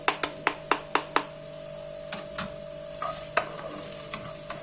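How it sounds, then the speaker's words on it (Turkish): A steady sizzle of onions sautéing in oil in a pan, punctuated by a quick run of sharp stirring clicks at the start and a few scattered knocks later. "Soğanlar yumuşayana kadar kavuruyorum."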